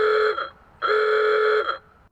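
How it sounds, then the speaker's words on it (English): A Tesla old horn sound effect from the 2020 holiday software update sounds as two buzzy, vintage-style honks. A brief toot is followed by a longer blast, both loud and clear with nothing else over them. "Old horn, I like this one."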